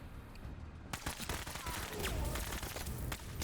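Gunfire from the tactical game Menace crackles in a rapid, dense volley of overlapping shots at moderate distance, steady for several seconds.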